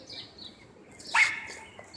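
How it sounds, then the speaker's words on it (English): Dogs bark at a distance indoors: one sharp, fairly loud bark rings out midway, with softer, higher yips and faint chirping around it, and no one talking. "Sorry about the dogs."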